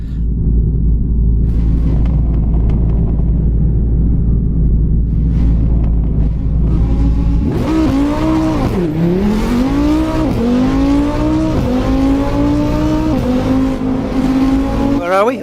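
A car in the racing game Assetto Corsa idles with a low, steady rumble, then revs hard, its pitch climbing and falling through repeated throttle blips and gear changes. The engine is loud and near, and a voice speaks over it.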